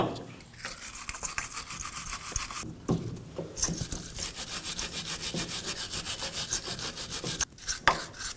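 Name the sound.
wire brush scrubbing debris off a car wheel hub area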